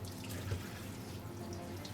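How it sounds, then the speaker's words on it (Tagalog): Tap water runs steadily onto vegetables in a kitchen sink, a continuous close splashing gush with no one talking. "Lagyan lang natin tubig para hindi mag-oxidize masyado."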